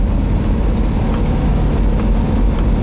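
A 1968 Plymouth GTX with a 426 Hemi and four-speed drives along a twisty, hilly road, its engine a steady loud low drone from inside the car, with faint ticks and wind noise and no talking.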